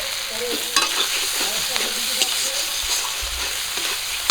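Poppy-seed spice paste frying for a hilsa fish curry, a steady soft sizzle with occasional stirring scrapes, fairly close and even throughout.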